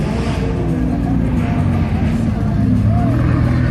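A McLaren 720S supercar drives past at the Goodwood Festival of Speed, its engine a loud, sustained drone rising and holding close by, with crowd chatter underneath.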